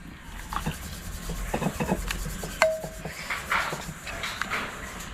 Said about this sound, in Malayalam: ഇനിയിപ്പോൾ ഇത് ഇഞ്ചി പച്ചമുളകും വേപ്പിൻ്റെ അല്ലയും കൂടി ചതച്ചിട്ടു